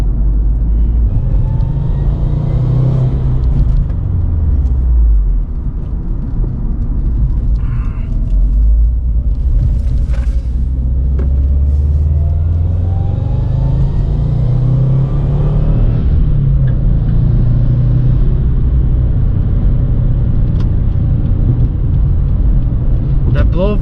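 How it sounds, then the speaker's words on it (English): A Subaru WRX driving, heard from inside the car: a loud turbocharged engine rumble that rises and falls as it revs through gears, with brief airy bursts that fit a blow-off valve, and talk in the cabin. "Blow valve just sounds so nice, the turbo and then the blow valve, and it's perfect combination"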